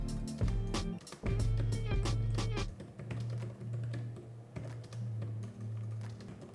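Steady clicking of typing on a Brydge 12.9 Series II keyboard for the iPad Pro, rapid irregular taps close by over a low background hum.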